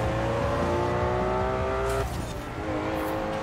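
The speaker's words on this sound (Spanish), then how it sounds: "vamos allá con el Ferrari 512. Vamos. Bueno, de momento la arrancada ya es más prometedora" Ferrari 512 launching from a standing start in Forza Horizon 4, engine revving hard with rising tone, then a gear change and renewed acceleration, loud and close with faint tire noise.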